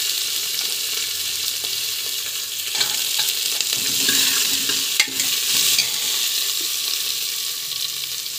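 Cabbage stir-frying in a hot pan: a steady broadband sizzle with scraping stir strokes and occasional clacks of a utensil, close and continuous with no talk.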